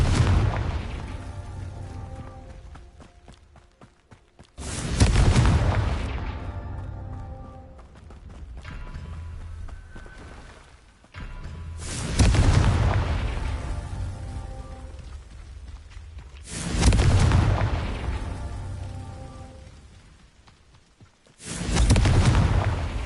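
Confringo spell blasts explode in the video game Hogwarts Legacy, five loud booming detonations spaced several seconds apart, each rumbling and fading into quieter game ambience.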